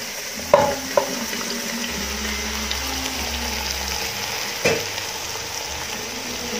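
Potatoes sauté in a hot frying pan with a steady, even sizzle throughout, a couple of sharp clunks near the start and another clunk later as they go in and settle, close by with no talking.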